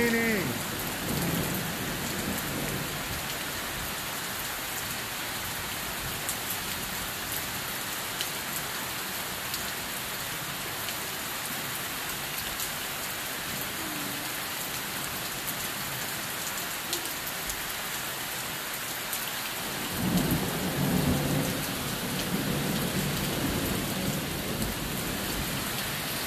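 Late summer thunderstorm in Kenmore, Washington: steady heavy rain hissing throughout, with low rumbles of thunder at the start and a louder rolling roll of thunder near the end.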